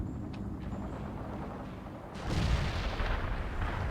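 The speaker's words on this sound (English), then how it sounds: "Enemy infantry firing at us." Battlefield gunfire from enemy infantry in the World in Conflict video game, a rumbling clatter of distant shots that swells into a louder, denser burst of fire midway, with no voices over it.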